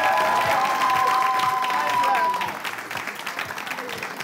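Studio audience clapping during a live Togolese television broadcast, loud and dense at first alongside a sustained musical tone, then thinning to a softer, scattered patter as the tone stops.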